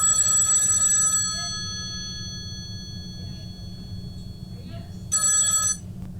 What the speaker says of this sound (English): Why did they stop ringing all of a sudden?